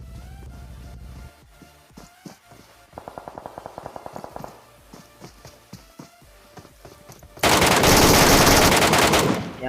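MK rifle gunfire in a battle royale shooter during a solo ranked match, with rapid bursts of shots, footsteps and clattering in between, then a loud sustained blast of fire near the end, no talk.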